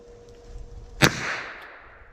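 A single sharp .32 Smith & Wesson pistol shot firing an 88 grain lead bullet at a chronograph from about five yards, loud and close, rising from quiet with a short ringing decay.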